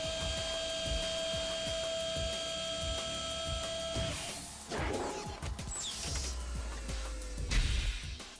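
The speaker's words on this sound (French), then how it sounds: "Initialisation, transformation camion." Robot transforming into a truck, a film effect: a steady electronic whine with ticking mechanical clicks, then clanking, crashing metal shifts, whooshes and a low rumbling engine-like drone at the end.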